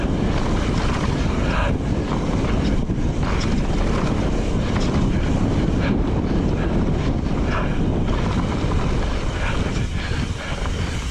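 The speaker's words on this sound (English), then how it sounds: "Oh, it's windy." Heavy wind roaring over a GoPro Hero 8 microphone while riding, a constant loud rumbling buffet with no letup throughout.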